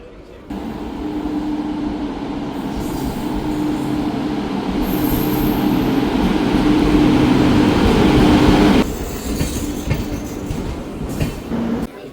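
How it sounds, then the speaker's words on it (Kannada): A train arrives at Udupi railway station, its loud rumble and wheel clatter swelling close by for several seconds, with brief squeals, before dropping off sharply. Voices talk faintly underneath. "ನೋಡಿ ಬರ್ತಾಯಿದೆ, ಒಂದು ಟ್ರೈನ್ ಬರ್ತಾಯಿದೆ"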